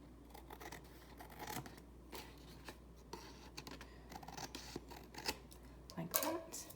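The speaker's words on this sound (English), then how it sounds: "now I'm gonna come through and just trim this a little bit." Paper for a Christmas scrapbook quad folio album is trimmed by hand, giving soft, close scraping and snipping sounds at a low level, with a few sharper cuts near the end over faint room hiss.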